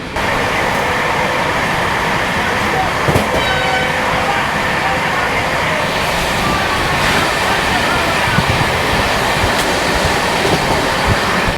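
An Amrit Bharat Express train runs at about 127 km/h, heard from on board as a loud, steady roar of rolling wheels and rushing wind that lasts the whole time. A few faint clicks mark the rail joints.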